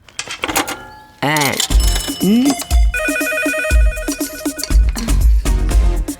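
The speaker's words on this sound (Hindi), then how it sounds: "तुम रुको, मैं देखती हूँ फोन पे कौन है।" A telephone ringing in repeated electronic bursts, loud and close, with people talking over parts of it.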